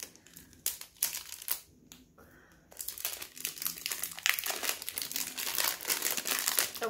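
Silver-lined gift wrapping paper unwrapped during a Christmas parcel unboxing: continuous close crinkling and crumpling with a brief quiet pause, then louder, dense rustling and tearing.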